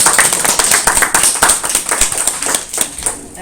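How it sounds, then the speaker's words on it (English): Chefs at a community cooking challenge in a public library get a round of applause from a small audience, with close, loud individual claps that sound uneven and sustained. "Let's give them all a big round of applause."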